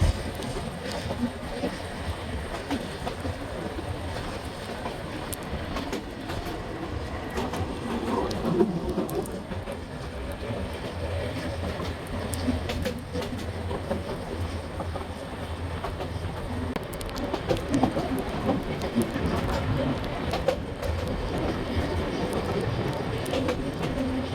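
An intercity Turna Express passenger train runs steadily on rails during heavy rain, its continuous rumble and rhythmic clatter filling the whole stretch, with faint bird calls in the background.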